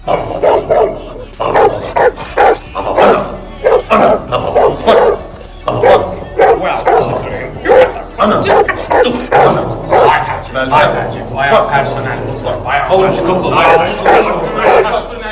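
People mockingly imitate dog barking with their voices, a rapid series of loud, yelping bow-wow barks close by, mixed with laughter and chatter.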